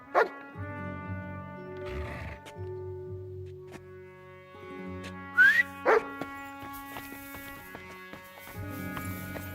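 A dog in the medieval role-playing game Kingdom Come: Deliverance II barks on command, a few short barks amid quiet game music with brief rustling sounds.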